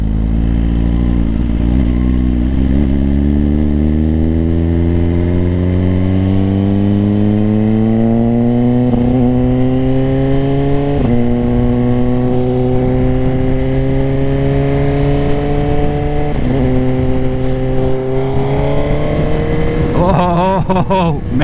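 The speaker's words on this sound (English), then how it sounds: "as you can hear, I got that Aquapovic slip-on pipe, and man, that thing sounds nice" A 2024 Suzuki GSX-R 1000 with an Akrapovic slip-on exhaust revs loud and close, its engine note climbing in stepped pulls through the gears and dropping briefly between them, steady and aggressive throughout.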